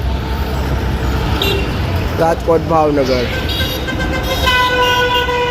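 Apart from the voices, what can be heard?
GSRTC buses departing Rajkot bus stand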